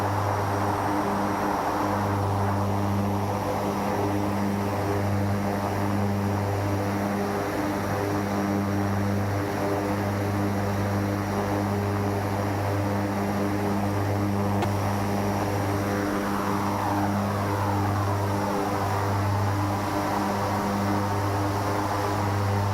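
King Air 350 turboprop from X-Plane 12 droning steadily in flight, a loud constant propeller hum with strong low tonal bands and a broadband engine roar throughout, no voices.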